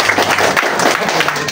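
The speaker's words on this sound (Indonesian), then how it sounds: "kita tepuk tangan buat Pak Haji Adi." A brief burst of audience applause at a residential housing launch event, loud and close, with dense overlapping claps and some crowd noise.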